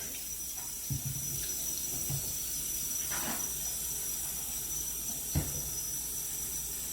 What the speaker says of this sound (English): me and my sister are going to clean up our hands with some soap and water